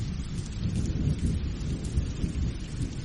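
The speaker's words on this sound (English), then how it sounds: "I'll leave the thunderstorm on for you a while longer to help you stay asleep." Steady thunderstorm with rain pouring down and low rolling thunder rumbling throughout, a dense continuous wash of sound at moderate level with no voices.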